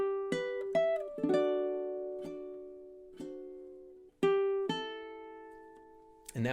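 Fingerstyle ukulele playing measures of Shenandoah, single plucked notes and small chords picked one at a time at a slow, gentle pace, each note ringing and decaying cleanly in a quiet room.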